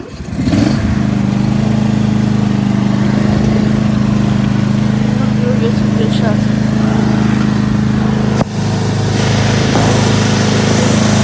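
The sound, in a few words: leaf bagger machine running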